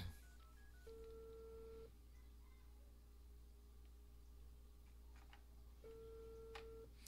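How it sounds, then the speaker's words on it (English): A telephone ringback tone sounds inside the video game Unheard during a call: two long steady electronic tones spaced a few seconds apart, fairly quiet, with faint ticking underneath. "I'm guessing that noise is the noise when someone's already on the phone and you call them."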